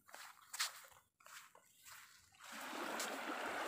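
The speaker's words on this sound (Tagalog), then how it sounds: "Ayan, nakikita nyo yung mga alon." Sea waves wash onto a white-sand beach, first as uneven splashes, then as a steady, fairly loud rushing surge.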